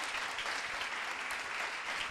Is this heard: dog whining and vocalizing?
no